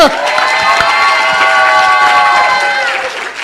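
At a symposium, a crowd claps and cheers loudly, with sustained high whoops and shouts over dense applause that tapers slightly at the end.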